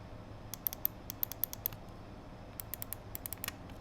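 Side button of a Glorious Model O gaming mouse held close to a lavalier mic, clicked in two quick runs of light, tight clicks, softer and thinner than the main buttons, with a short gap between runs in a quiet room.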